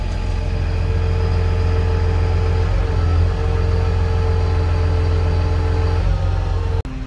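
A tractor engine runs steadily at a constant idle, heard loud and close from inside the cab, with a low even drone that cuts briefly near the end.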